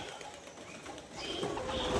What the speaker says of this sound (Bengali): এই দেখেন কবুতরগুলো ওরা মনে হয় বুঝতে পারে